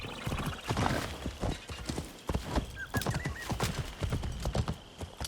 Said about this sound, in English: Okay, the horse.